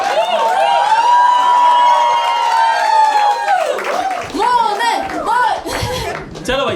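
Studio audience bursts into loud applause and cheering to welcome a contestant onto a show, steady clapping with whoops and shouts that thin into scattered claps and voices toward the end.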